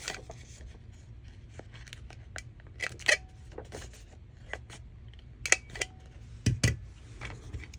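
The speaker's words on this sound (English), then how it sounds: "So we're going to round these 2 corners to match the base." Paper corners of a tri-fold booklet being rounded with a corner punch, giving several sharp, close clicks and snips spaced a few seconds apart over a quiet background.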